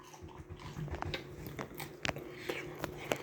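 Crunchy bites into bread topped with a hot stew made from a 4,000-year-old recipe, several crisp crackling chews close to the mic in an irregular rhythm, with no talking.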